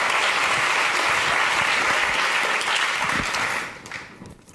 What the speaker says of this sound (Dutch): Ook een applaus.